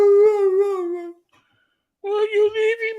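A dog howls in long, wavering, high-pitched cries with a whimpering edge, breaking off into a second of silence before howling again, loud and close.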